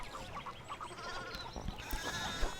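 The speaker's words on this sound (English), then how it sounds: "One of the fence rails fell off and the sheep started hopping it." Sheep on a farm in Pentiment bleat faintly in short, wavering calls over a quiet background.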